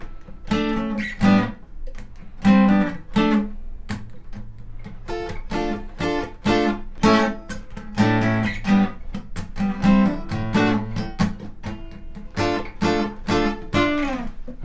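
A guitar is played through a Boss RC-1 loop station for an arrangement, with bright, rhythmic plucked chords and muted strums repeating in a steady groove for about fifteen seconds, with no talking.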